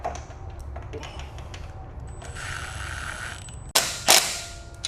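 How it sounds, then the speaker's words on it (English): Hand tool tightening 1/4-20 bolts on light bar mounting brackets of a Polaris Ranger 1500 rack: soft mechanical creaks and ratchet clicks, then a couple of louder metallic knocks near the end, close up with no talking. "and then you go ahead and tighten them down."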